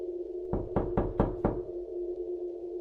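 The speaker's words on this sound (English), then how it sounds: "Then came the first knock." Five deliberate knocks land on a hard surface in a quick, even rhythm as a horror-story sound effect, close and distinct over a steady low hum, with the hum continuing after the last knock.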